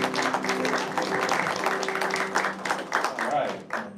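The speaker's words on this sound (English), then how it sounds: "give them another round of applause" An audience applauds at a live meeting, a continuous close clatter of clapping hands filling the clip while a voice speaks over it.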